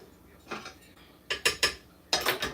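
Garlic being stirred in a cooking pan, a handful of short metallic scrapes and clinks from the utensil, close and fairly quiet, in two small clusters with pauses between.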